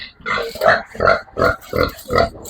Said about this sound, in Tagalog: mga baboy ko ka-farmers oh